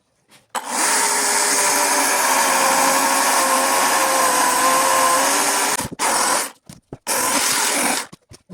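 Husqvarna battery chainsaw cuts dry wood at full power, a loud steady electric whine for about five seconds, then two short bursts as the trigger is released and squeezed again, close up with no talking.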